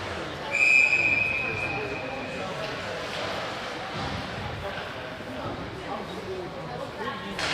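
A referee's whistle at a varsity hockey game against Mankato West gives one brief shrill blast early on, followed by arena crowd noise and rink sounds with talk over them.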